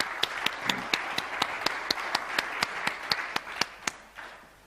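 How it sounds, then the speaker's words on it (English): Evenly spaced single hand claps for a conference panel of investors on a spotlight stage, a steady rhythm of distinct sharp claps rather than a dense crowd roar, stopping after about four seconds. "Please give a warm round of applause for these guys."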